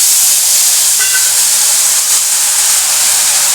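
Water with turmeric hitting a hot kadai gives a loud, close, continuous steam hiss that holds steadily for several seconds.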